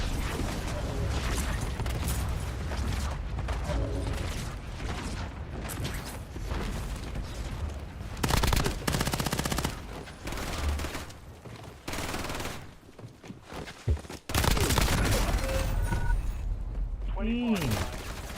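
Dense video-game gunfire with machine-gun bursts and fusillades, mechanical clanks and booms, continuous and loud across the whole stretch, with voices talking over parts of it.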